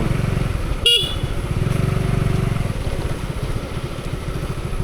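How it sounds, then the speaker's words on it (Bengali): A motorcycle rides along a wet village road in the rain, its engine droning steadily throughout, with one short horn toot near the start. "বৃষ্টির দিনে মোটরসাইকেল ড্রাইভিং দেখতে পাচ্ছেন দর্শককে"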